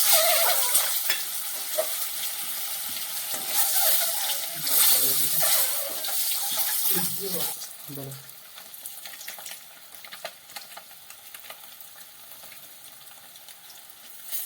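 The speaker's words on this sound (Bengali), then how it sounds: "ডিমগুলো আমার ভাজা হয়ে গেছে" Eggs fry in hot oil with turmeric in a pan, giving a bright, steady sizzle with bursts of crackling and stirring scrapes, louder at first and then settling into a quieter hiss.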